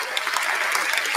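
Brief burst of dense audience clapping during a Brazilian Portuguese community call, steady and fairly close, with no voices over it.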